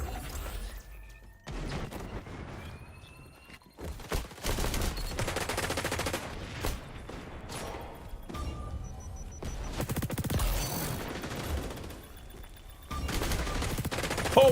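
Gunfire from the online shooter video game XDefiant keeps going in repeated bursts and single cracks. There are loud bangs and impacts with busy game noise between them and no talk.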